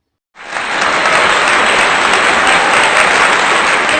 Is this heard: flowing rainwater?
no